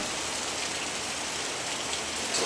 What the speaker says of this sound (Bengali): কি ভারী ভীষণ বৃষ্টি হচ্ছে